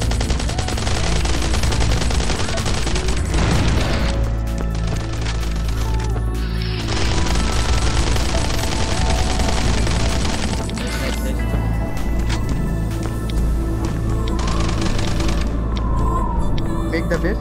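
Gunfire in the survival game Last Island of Survival crackles almost nonstop, dense bursts of shots layered over a constant loud game din while players talk.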